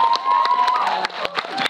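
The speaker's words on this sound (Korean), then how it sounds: "박수 한번 쳐주세요." Audience applause and scattered cheering fill a live talk-show stage event with actor Jung Woo-sung, a dense, steady wash of clapping with sharper individual claps poking through, loud and close.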